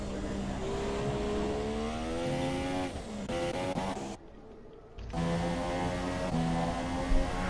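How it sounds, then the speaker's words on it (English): A Formula 1 car engine in the F1 2017 video game screams at high revs, climbing through gear changes, cutting out briefly, then roaring back up loud and close. "Sounds a little down on revs through there"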